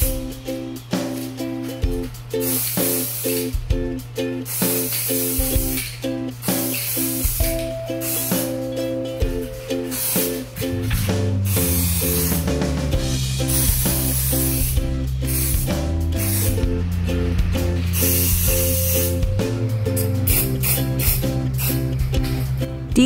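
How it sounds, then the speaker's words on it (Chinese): Spray paint hisses onto a repaired exhaust pipe from a Kymco X-Sense scooter, in short repeated bursts at first and then a long steady spray, close and loud. "第一层我们把它喷薄薄的就好了，没有完全均匀没关系"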